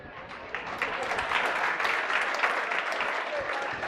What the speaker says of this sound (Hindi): हमें नहीं चाहिए ताली